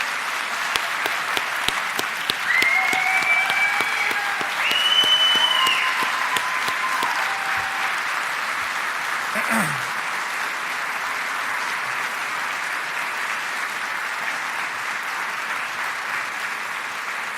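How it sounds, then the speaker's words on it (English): An audience at a Veterans Day ceremony applauds an award winner named Sarah with sustained, even clapping. A few faint tonal chirps rise over it early on, then the clapping carries on steadily to the end. "Please join me in giving Sarah a round of applause."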